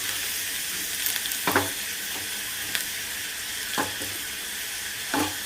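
Shallots frying in oil with popping mustard seeds for a raw banana thoran, a soft continuous sizzle with a few distinct stirring scrapes spaced apart, close and alone.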